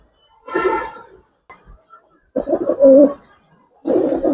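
Pigeons in a loft or market pen of colour-bred fancy breeds, cooing in three separate bursts with short pauses between, fairly close and moderately loud.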